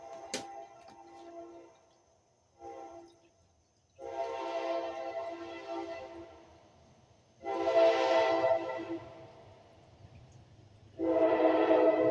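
A train approaches and rumbles past in loud, repeated surges of rolling noise separated by brief lulls, with a sharp click near the start.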